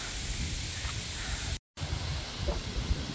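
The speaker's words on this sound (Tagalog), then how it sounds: "Tingnan nyo po kung gaano kalakas ang hangin." Strong wind outdoors in New Zealand roars and buffets continuously, with low gusty rumbles, broken by a brief moment of silence partway through.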